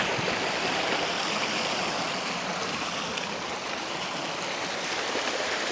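The Pinagsabangan River in Bailen, Cavite rushes steadily at its lowest point, a broad constant roar of flowing water filling the scene with no pauses and no voices.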